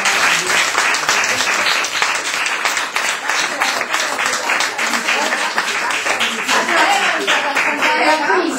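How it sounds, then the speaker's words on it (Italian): Sustained audience applause in an Italian school auditorium, dense and even clapping holding for several seconds, fairly loud and close, with some voices mixed in. "io volevo fare un applauso e un ringraziamento."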